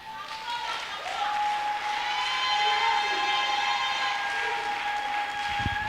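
Congregation applause during a church Easter sermon, a broad even wash of clapping and cheering that swells and holds, overlaid with a sustained tonal drone like an organ or keyboard chord.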